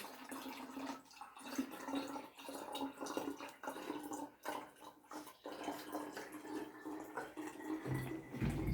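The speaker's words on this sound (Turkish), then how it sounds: "deliği kapatarak suyumuzu döküyoruz" Water pours from a plastic bottle with a small hole while the hole is held shut, giving a steady splashing, trickling flow that runs continuously, closely miked, with no voices.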